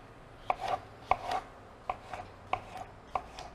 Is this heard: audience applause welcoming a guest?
no